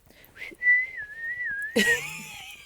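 A person whistles a single sustained, wavering tone for about a second, followed by a short, higher whistled slide with faint background murmur.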